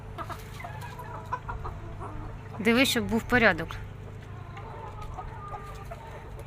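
Chickens clucking in a backyard with ducks nearby, a few louder cluck-like calls rising briefly in the middle over a steady low hum, while someone speaks.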